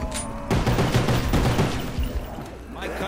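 Dense, continuous gunfire in a zombies video game, loud and sustained for several seconds, with rapid overlapping shots forming a steady barrage.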